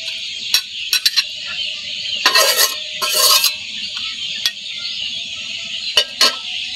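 Fried banana flower bhaji being scraped out of a pan: scattered metallic scrapes and clinks of a utensil against the pan over a steady faint sizzle, with a few brief louder bursts of stirring.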